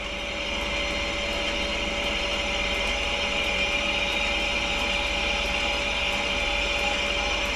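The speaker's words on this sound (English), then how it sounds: "So what I'm going to do now is bring it up to speed, because the machine's set for 800 RPM." A balancing machine spins a Ford Zetec crankshaft up to a steady 800 RPM, giving a constant, loud mechanical whir and hum with a faint rhythmic ticking throughout.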